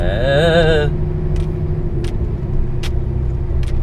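A Scania truck with an automatic gearbox pulls away after a gear shift, a steady low engine rumble filling the cab, with a brief whining tone at the start and a few faint clicks or taps over the drone.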